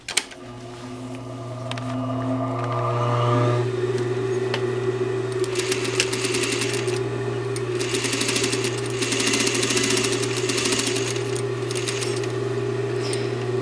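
A sewing machine stitches along the bottom edge of a welt on a garment, with a loud steady motor hum and rapid, rhythmic needle clatter in bursts, close up and with no talking.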